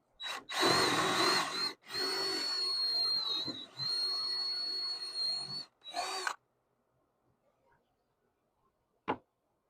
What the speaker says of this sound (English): So now we're gonna drill here